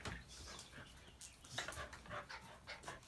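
A small Mexican dog whimpering and panting close by, a string of soft, breathy high-pitched whines and snuffles in short irregular bursts, no talking.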